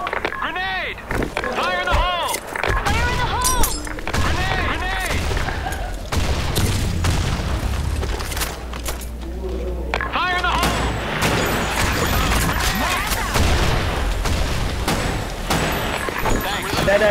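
Grenade blasts and bursts of rifle fire ring out in a BlackShot clan war match, sharp repeated shots and booming explosions mixed with players talking and shouting over them.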